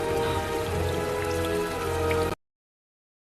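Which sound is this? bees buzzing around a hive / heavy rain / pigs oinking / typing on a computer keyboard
heavy rain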